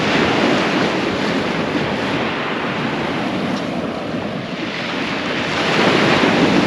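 Sea waves wash steadily onto the Holderness coast at Hornsea North, a continuous loud roar of surf mixed with gusting wind buffeting the microphone, with no voices.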